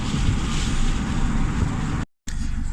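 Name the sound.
turbocharged Honda Civic D16 engine breaking up at high RPM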